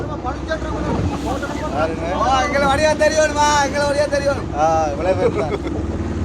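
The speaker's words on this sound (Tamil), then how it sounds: "இப்போ படகுல போய் கொண்டிருக்கிறோம்" A motorboat engine drones steadily beneath wind noise at sea off Mullaitivu, with people talking loudly over it throughout.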